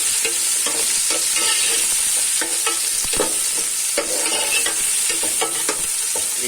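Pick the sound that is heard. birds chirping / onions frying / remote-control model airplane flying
onions frying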